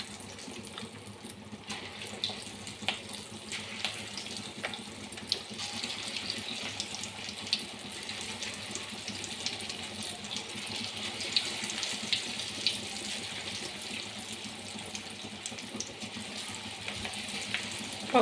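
Chicken pakoda pieces frying in hot oil, a steady dense sizzling hiss that holds evenly at close range with no talk throughout.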